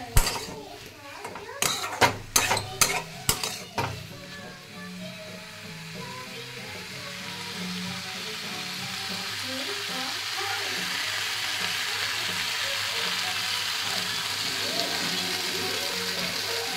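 Taro and potato curry being mixed in a pan: a burst of sharp utensil knocks and scrapes, then a steady, even sizzle.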